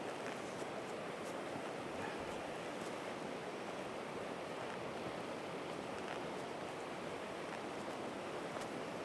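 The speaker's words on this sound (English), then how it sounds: "You can hear the water starting to get faster, so we're coming up to the entrance of the cave up here." River water rushes faster as it nears a cave entrance, a dense, continuous roar that stays loud and even throughout, with no voices.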